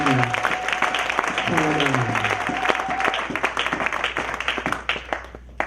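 A church congregation at a French-language sermon on the divinity of Jesus Christ breaks into strong applause and cheering for the Lord. The dense clapping is loud and close, with voices calling out over it and a sustained tone in the first half.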